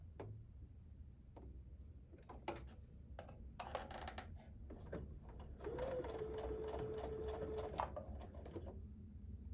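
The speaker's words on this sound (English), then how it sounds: "So I'm going to sew with the square piece on top" A sewing machine stitches quilt pieces together for a January sampler block, a steady motorized whir running from about six to eight seconds, preceded by scattered ticks and clicks of fabric handling.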